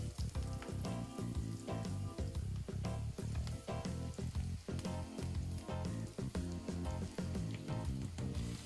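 Okra tossed into a pan of lightly sautéed onions, with a steady loud sizzle and frequent stirring scrapes and clatters throughout.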